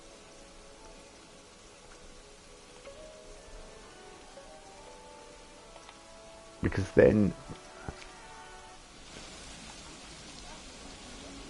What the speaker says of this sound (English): everyone's going home because it's raining.